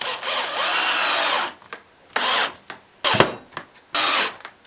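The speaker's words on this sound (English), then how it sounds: "go ahead and screw it in." Power drill driving a screw into wood in a series of bursts: a long whirring run, then shorter pulses with brief clicks and pauses between them, close and fairly loud.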